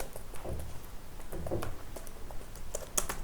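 Typing PHP code on a computer keyboard, irregular bursts of close, crisp key clicks and taps with short pauses, fairly quiet and alone.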